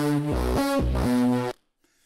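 A buzzy synth lead plays a short stepping melody of sustained notes, bright and harmonically rich, then cuts off abruptly into near silence.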